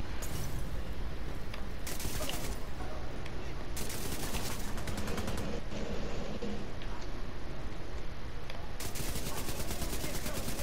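Automatic gunfire from The Division 2 shooter game, with dense rapid bursts and clustered volleys across the whole stretch, mixed with game ambience and a voice talking over it.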